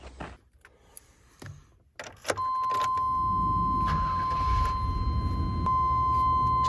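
A van with a newly lit check engine light runs steadily on the road, a loud, constant engine drone with a thin whine held over it, after a few brief knocks and a door-like thud at the start.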